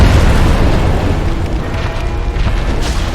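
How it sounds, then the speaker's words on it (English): A repeated explosion in Dark Souls Remastered, heard as loud, heavy booming rumbles that roll into one another almost continuously, with no speech over them. "And it's just doing the explosion over and over again."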